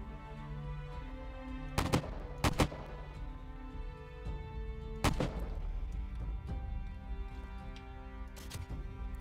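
Gunfire in the survival video game 7 Days to Die, Alpha 16 with the GNAMod horde mode: a few sharp, isolated shots spaced seconds apart over a quiet, humming in-game background.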